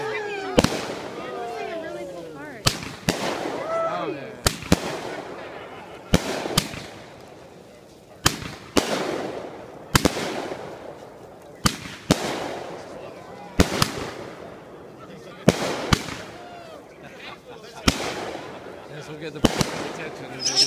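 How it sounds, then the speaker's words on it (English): Fireworks go off in a backyard near a burning Christmas tree in Atlanta, about a dozen sharp loud bangs at irregular intervals over twenty seconds, with crackle and voices in between. "Has their own firework in the backyard."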